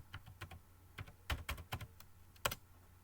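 A short command is typed on a computer keyboard nearby, uneven bursts of crisp key clicks with brief pauses and a final firm keystroke, quiet and without talk.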